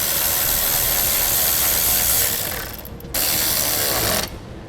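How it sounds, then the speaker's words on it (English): A ratchet wrench removes a nut from a stud during trailer wiring installation on a 2015 Kia Sorento, a dense rapid clicking close by that briefly slows and then resumes before stopping. "Now let's pull the nut off that stud."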